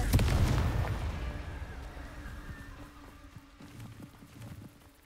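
A Confringo blasting spell in the video game Hogwarts Legacy: a loud, booming explosion at the start rolls off into a fading rumble, followed by softer scattered crackles and impacts.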